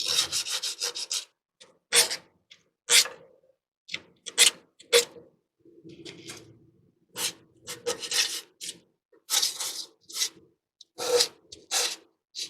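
Brake shoe contact points on a rear brake assembly being sanded with 400 grit sandpaper, a close series of short, scratchy rubbing strokes in irregular bursts with quiet gaps between; no speech.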